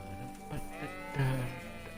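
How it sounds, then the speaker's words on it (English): A sheep in the medieval video game Kingdom Come: Deliverance lets out a single drawn-out bleat, moderately close, over a soft, sustained bed of game ambience. "Sheep."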